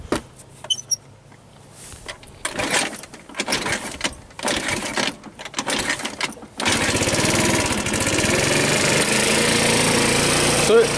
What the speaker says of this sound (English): I'm gonna try the kickstart.